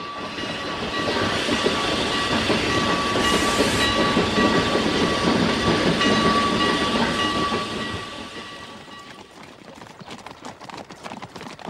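A train rumbles past on the rails with a loud, steady clatter and hiss that fades after several seconds, leaving quieter rhythmic clicking.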